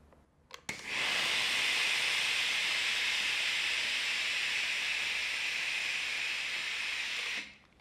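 Steam blasting from a MIE Assistente di Vapore household steam generator iron: a loud, continuous broadband hiss starting abruptly after a brief click and holding steady for about seven seconds before cutting off, close and alone.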